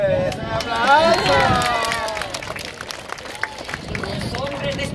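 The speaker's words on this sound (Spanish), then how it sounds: "¡Aplausos!" An audience gathered for a folk song performance by women of El Tambo, Catamayo, breaks into clapping and cheers; a sung or shouted voice rises over the crowd at first, then steady scattered applause continues with background babble.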